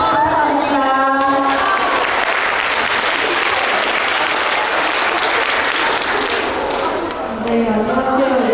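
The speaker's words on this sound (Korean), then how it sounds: "큰 박수 부탁드립니다." An audience at a school entrance ceremony claps in a loud, dense burst of sustained applause. A voice speaks briefly before the clapping swells and again as it dies away.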